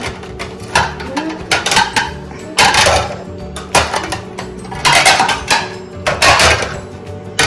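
Clean dishes, pots, pans and cutlery are unloaded from a dishwasher, with loud, close, irregular clatters, clinks and bangs in rapid bursts.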